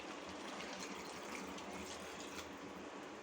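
Water pours into a pot of chicken gravy on the stove as a steady, continuous splashing gush, moderately quiet with no voices over it.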